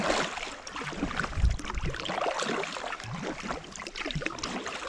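Paddle strokes push a kayak through open water, soft uneven splashes and trickling drips heard close by, fairly quiet and without voices.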